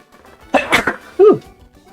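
A single close sneeze, a short inhaled buildup and then a sharp, loud burst, followed by a brief voiced after-sound.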